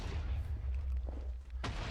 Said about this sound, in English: I don't know what is exploding in the distance.